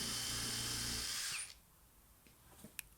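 Power drill pre-drilling small cut wooden blocks for candle bases, a loud steady high whine for over a second that stops abruptly, followed by faint handling clicks and knocks.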